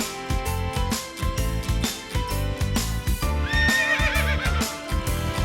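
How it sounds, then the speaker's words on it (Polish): A horse whinnies in a bright, wavering neigh over a busy backing of music and clip-clopping hooves, loud and close, with no talking. "Koń rży."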